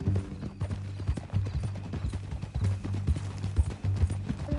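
Horse hooves clip-clop at a steady walking pace in the video game Red Dead Redemption 2, rhythmic and fairly close, with faint background sound.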